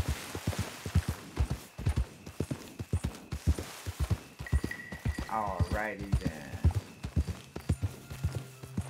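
Horse hooves clip-clopping in Red Dead Redemption 2, a steady rhythmic series of close, distinct hoof thuds walking throughout, with someone talking and a brief horse snort or whinny midway.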